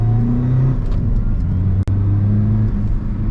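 Renault Megane 2 RS diesel engine running with a loud, low rumbling drone, the revs shifting slightly with a brief dip midway, heard close from inside the car.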